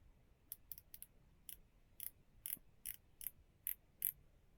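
A series of about ten crisp, sharp clicks, irregularly spaced and close up, from a rotating San Martin watch bezel in a quiet room.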